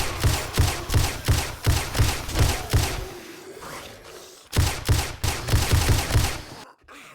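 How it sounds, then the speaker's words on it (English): Rapid bursts of automatic gunfire from a machine gun in the zombie survival game 7 Days To Die, loud and rhythmic, firing in two runs separated by a short lull with no talking. "Had to break out the machine gun."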